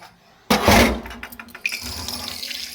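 Tap water runs into a sink as new dishes are rinsed, a sudden close splash followed by uneven gushing and clattering of utensils under the stream.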